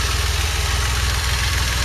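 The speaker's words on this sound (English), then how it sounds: "My engine is now pulling air through the vacuum leak that I created" A DeLorean engine idles steadily, close and even, while drawing air through a deliberately created vacuum leak, with a constant low throb and no talking.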